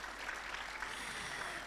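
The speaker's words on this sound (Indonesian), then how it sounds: "Mohon tepuk tangannya lagi." Faint audience applause at a Cakap-Cakap on Stage talk event held at Pondok Pesantren Modern Syahid in Pamijahan, Bogor, West Java. It comes as a steady, distant wash of many hands clapping, with no voices over it.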